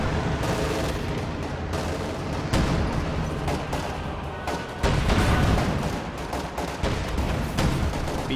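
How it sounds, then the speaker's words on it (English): B-4 howitzer artillery in a World War II strategy game firing on Panther tanks: heavy booming shots and dense battle gunfire crack over a constant rumbling din, with several louder blasts standing out. "B-4 turns to fire on the Panthers"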